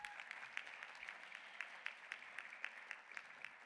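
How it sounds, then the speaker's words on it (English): Audience applause at a luncheon, steady clapping from many hands with sharp individual claps standing out, moderately distant and sustained throughout without talk. "One more round of applause"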